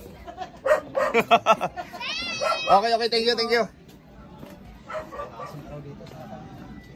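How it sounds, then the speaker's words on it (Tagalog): A dog barks in a quick run of yaps close by, then lets out a longer whining howl; a person speaks briefly afterward. "Ay, may aso."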